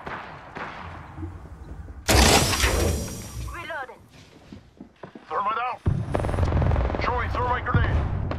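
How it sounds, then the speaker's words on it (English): Gunfire in the Apex Legends video game, loud bursts of automatic shots in rapid succession with abrupt starts and stops, mixed with game voice lines and effects. "Listen up, I'm getting shot at."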